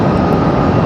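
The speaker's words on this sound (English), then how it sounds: "Got a United and a Delta pushing back here, so we're going to have some significant departures." Airliner jet engines at Raleigh-Durham airport during taxiing and departures, a loud, steady broadband roar that stays constant through the brief moment, with no talking.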